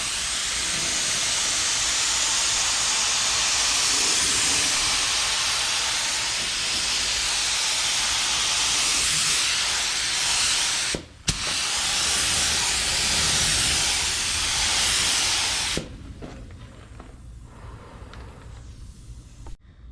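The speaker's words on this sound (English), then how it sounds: "Ready to start shooting some primer on it." Spray gun shooting primer onto a masked-up Ford F250 truck, a loud steady hiss of atomized spray running continuously with one brief break, then cutting off to a quieter background near the end.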